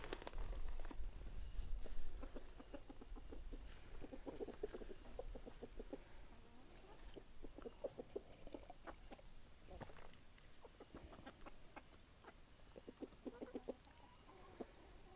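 A pet rooster on a backyard farm makes soft, intermittent clucks close by while scratching and walking around, with faint insect hum in the background.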